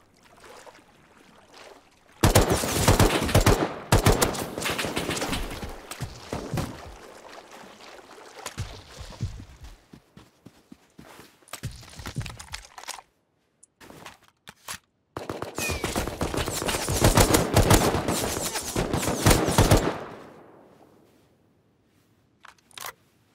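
A Thompson submachine gun rattles off in a video game in two long, loud bursts of rapid automatic fire, separated by a quieter gap with scattered shots and noise, then trailing off to near silence.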